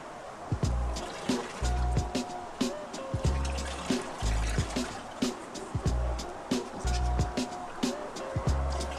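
Water runs into a plastic bottle filled up to 1.5 litres, giving a gurgling, trickling pour with repeated glugs and small knocks, close up and moderately loud.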